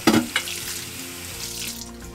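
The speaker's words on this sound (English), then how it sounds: "The texture of the luffa is going to help remove any food that's more difficult to wash off." Dishes being scrubbed with a homegrown luffa sponge under water, a short wet splashing scrub at the start followed by a steady rushing stream of tap water, close and continuous, no talking.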